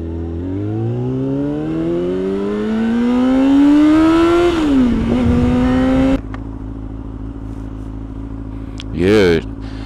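Motorcycle engine running smoothly after a tune-up and oil change, revving up steadily in pitch for several seconds, dropping back, then settling into a loud steady idle, with a brief high whine near the end.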